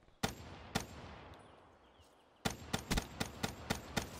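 Shots from the Gorgon gun in Call of Duty: Black Ops 3, first two heavy single blasts, then after a pause a rapid run of six or seven loud, evenly spaced shots, with no talking.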